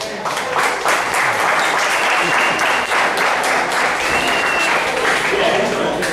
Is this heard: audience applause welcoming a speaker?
yes